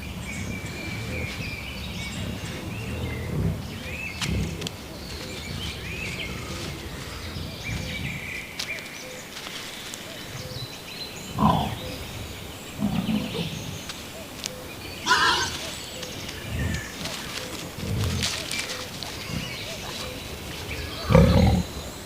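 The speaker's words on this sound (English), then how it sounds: "the wolf is woken by the sound of mushroom-digging boar" Wild boar rooting and digging for mushrooms in a Chernobyl forest, with scattered snorts, rustles and grunting bursts over a continuous outdoor ambience, moderately near and irregular throughout.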